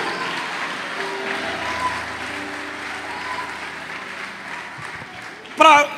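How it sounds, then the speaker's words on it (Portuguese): Applause from a church congregation during a sermon on the year of jubilee, steady and broad throughout, ending with a brief louder burst. "Essas palmas ficaram diferentes das outras."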